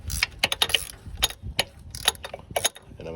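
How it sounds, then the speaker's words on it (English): A ratchet wrench loosens the power steering pump bolt on a Lexus IS300, giving a few bursts of quick, close metallic clicking separated by short pauses, with no talking. "now what I'm doing is I'm taking off the bolt for the power steering pump"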